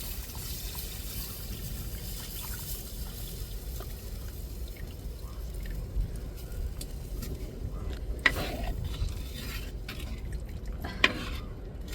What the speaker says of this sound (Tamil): இப்போ நம்ம கரைச்சி வச்ச புளி தண்ணியை சேர்த்துக்கிருவோம்.